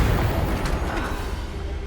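Confringo blasting spell going off in Hogwarts Legacy: a deep, rumbling explosion with a brief crackle of debris, loud at first and slowly easing over a couple of seconds.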